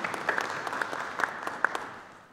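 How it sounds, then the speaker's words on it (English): A short burst of audience applause, many hands clapping together, fading out toward the end. "Can we have a round of applause for our sponsor?"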